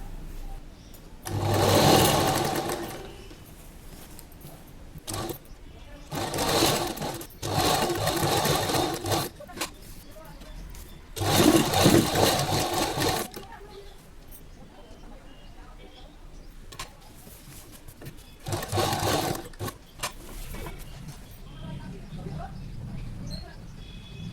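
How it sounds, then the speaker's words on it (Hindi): A sewing machine stitches along the edge of a colourful neck design in several loud whirring runs of a few seconds each, separated by pauses with softer handling noise. "अब हम यहाँ इसके किनारे किनारे सिलाई लगा लेंगे।"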